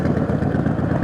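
Air-cooled engine of a Confederate X132 Hellcat Speedster motorcycle in Moscow traffic, a close, loud, pulsing idle with a rapid lumpy beat and no talking.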